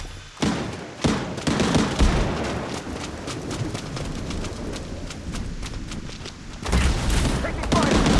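Rapid bursts of gunfire in the shooter game Blood Strike, loud and close, with sharp repeated cracks and a heavy boom, continuing throughout with little pause.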